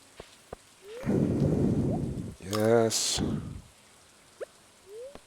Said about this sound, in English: Go outside. It's raining.